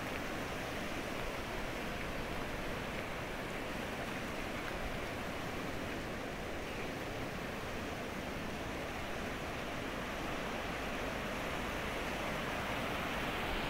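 River water rushes steadily after a landslide in Tupul, a continuous broad roar of flowing current heard up close with no pauses and no voices.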